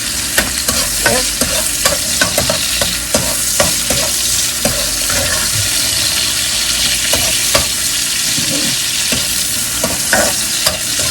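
Bell peppers and jalapeno fry in a pan while being stirred, a steady hiss of sizzling broken by frequent sharp scrapes and taps of the utensil, close and loud throughout with no voices.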